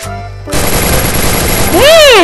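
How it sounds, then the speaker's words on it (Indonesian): MP40 submachine gun firing in a video game: a loud sustained burst of rapid automatic fire, with a rising and falling whistle-like effect near the end. "Headshot begitu saja dengan MP40."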